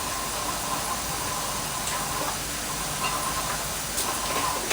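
Oil and tomatoes fry in a baking tray for Egyptian moussaka, giving a steady, loud, broadband sizzling hiss that runs unbroken throughout with no talk.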